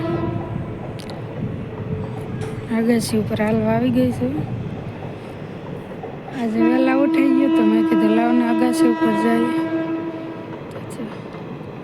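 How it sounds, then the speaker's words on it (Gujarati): A train horn sounds in long sustained tones over rumbling rail noise in the early-morning dark, with a person talking throughout. "અત્યારે જો ટ્રેન જાય છે"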